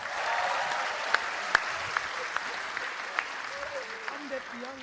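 Audience at a political gathering of Anies supporters applauds steadily, broadband clapping under faint voices with a few sharp louder claps standing out.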